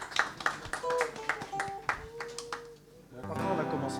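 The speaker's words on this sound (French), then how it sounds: "On peut l'applaudir, il est trop fort." Small audience clapping at a concert venue, scattered and irregular, with some talk mixed in, then fading as music starts.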